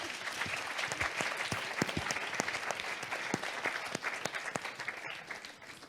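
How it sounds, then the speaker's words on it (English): A room full of people applauds a conference panel, dense, even clapping with sharp individual claps standing out, steady throughout and tapering slightly at the end, no voices over it. "The round of applause for the panel."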